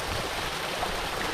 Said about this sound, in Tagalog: Yan po yung tubig ng mini lake.